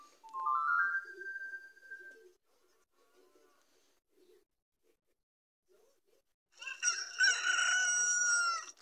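Chickens in the video game Zelda Ocarina of Time: a rising crow at the start, quiet scattered clucks in the middle, then a loud burst of crowing and squawking at the end.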